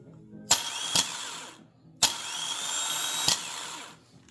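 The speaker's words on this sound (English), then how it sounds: "So it's working fine, the starter." A car starter motor, run on 12 volts, spins in two separate bursts, each starting with a sharp click into a high, close whirring whine that winds down after about a second and a half, with no talking.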